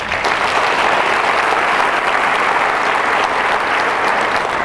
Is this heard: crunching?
no